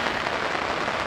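Steady rain pouring down on a disc golf course during a women's tournament round: dense, even hiss of drops hitting the ground, with no other sound standing out.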